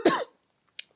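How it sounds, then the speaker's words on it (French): A single sharp, loud cough close up, followed by a short, faint breath or throat sound, then quiet. "Pardon, je tousse encore beaucoup."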